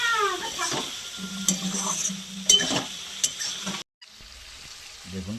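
Fish braising in spicy masala with potatoes and chilli, stirred in a pan: scraping spoon strokes and a steady sizzle, a short gap of near silence, then the stirring and frying resume.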